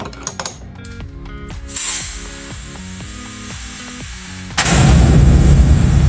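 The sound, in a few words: loosening car battery terminal with a wrench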